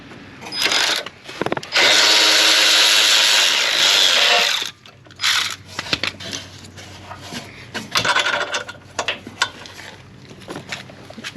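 Power tool at work on the exhaust hanger bracket of a BMW G05 during a trailer hitch install, with a loud sustained two-second whir, then short ratcheting bursts and clanks from metal parts, all close.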